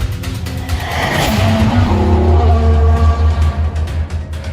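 Race car in an F1 video game spinning out on a curve, with a sustained engine drone and a rising tire squeal and skid across the middle, loud and close, no talk.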